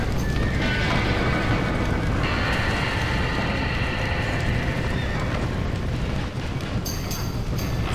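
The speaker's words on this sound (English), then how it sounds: "We gotta get to the horse!" Horse hooves clip-clopping steadily with a neigh in the Red Dead Redemption video game, accompanied by dense, loud ambient game noise and a bright chime near the end.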